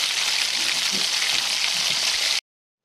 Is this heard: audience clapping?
no